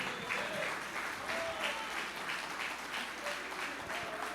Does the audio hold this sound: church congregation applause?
yes